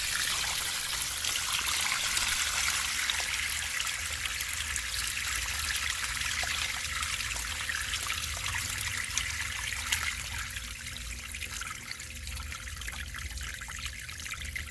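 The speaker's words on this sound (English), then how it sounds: "to empty it, you just unscrew this little nib down here on the bottom to drain it. Alright, there it goes." Water drains out through the small unscrewed drain nib at the bottom of a Craftsman wet/dry vac, a continuous trickling, splashing flow heard close and steady throughout.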